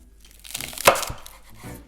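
Knife chopping peppers on a cutting board, a few quick close taps with one sharp louder cut in the middle, alone without talk.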